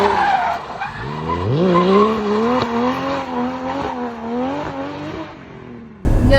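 A 693bhp 2JZ-powered Nissan Silvia S14a drifts with its tyres skidding in a loud, sustained squeal, the engine's tone rising and wavering underneath. A sudden burst of noise cuts in at the very end.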